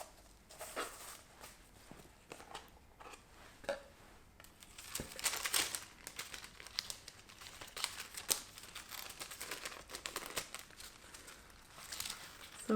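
Tissue and wrapping paper crinkle and rustle as a small Hermès box is unboxed, soft irregular crumpling and handling sounds close by with no talking.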